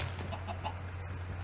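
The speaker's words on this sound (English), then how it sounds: "that chicken's annoying" Soft, repeated clucking of a Minecraft chicken over a steady low background hum, brief and fairly faint.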